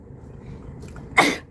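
A person gives one short, sharp sneeze near the end of a quiet stretch of low room noise, indoors at a podcast recording.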